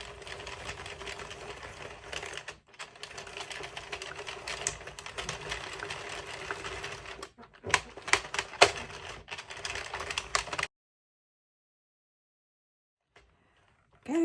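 Addi or Sentro knitting machine cranked by hand while knitting a mouse hat: a rapid, continuous clattering whir of plastic needles, close and moderately loud, with brief pauses and a louder burst before it stops and falls silent.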